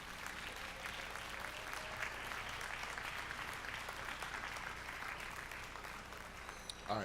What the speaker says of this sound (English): I want you to give your family members a round of applause